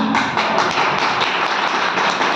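A large seated crowd at a network-marketing motivational speech claps together, a dense, steady wash of many hands that fills the whole stretch at fairly close range, with no talking over it.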